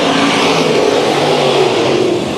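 Race cars at Bakersfield Speedway roar together off the green flag start of a heat, a loud, dense, steady engine drone with no break across the whole moment.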